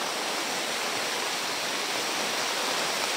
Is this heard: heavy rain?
yes